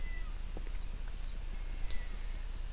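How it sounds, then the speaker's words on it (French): Faint small meows from a cat in Minecraft 1.1, a few short high cries over a busy game backdrop of horse clip-clop hooves and low rumble. "Ouais, on entend un petit chat."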